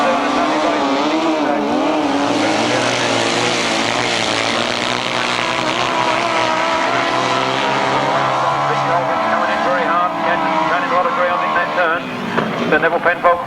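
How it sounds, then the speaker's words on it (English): Grasstrack sidecar motorcycles racing at a 1991 meeting in Staplecross, engines revving hard and rising in pitch as the throttle opens, loud and sustained, with a commentator talking over the noise. "But Neville Penfold cracks the throttle on early, he's sure to win."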